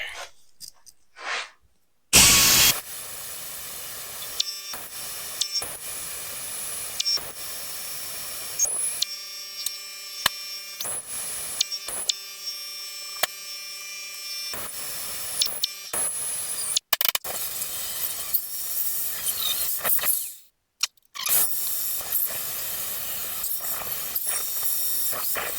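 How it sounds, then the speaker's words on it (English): A die grinder fitted with a grinding disc works steel for an MGA sill box beam. It gives a continuous high-pitched whine and hiss that surges and dips as it bites, broken by brief pauses and restarts. "I can't quite make it all the way into the corners with the grinding disc"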